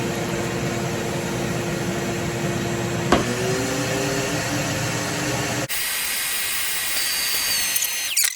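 A vacuum former pulling heated plastic down onto a fishing-lure mold, a loud continuous mechanical roar and hiss with a short sharp click partway through, then a sudden shift to a thinner airy hiss.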